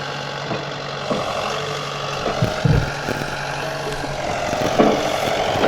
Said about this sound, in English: Hunter's running the excavator right now